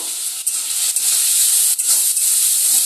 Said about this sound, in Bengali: সামান্য পরিমাণ লবণ, সামান্য পরিমাণ হলুদ দিয়ে মাছটাকে ভেজে নেব।